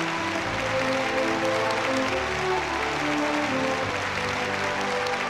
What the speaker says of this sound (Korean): 전체 참가자들은 열광적인 박수로 환영했습니다.